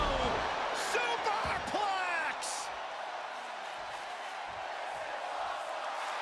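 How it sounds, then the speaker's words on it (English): Wrestling arena crowd roaring after a superplex at a Jay White vs Rey Mysterio match, a loud sustained wash of cheers with whoops and a commentator talking over it. "The sound of this crowd is deafening, and he's asking for more."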